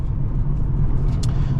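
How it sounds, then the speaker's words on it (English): Lexus LS 430 sedan with 111,000 miles, its engine running smoothly: a steady low rumble with mild road and cabin noise, even and unbroken through a brief moment. "The engine still runs great and is smooth and quiet"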